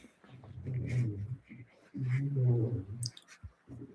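A dog whimpers nearby in two drawn-out, low whining moans with a short gap between them, followed by a few faint clicks.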